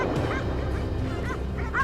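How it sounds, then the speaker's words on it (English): Hunting dogs in a pine forest bark loudly and repeatedly at a wild boar they have cornered, the pack's excited yelps layered over a steady rumble of background noise. "our dogs suddenly burst into loud barking"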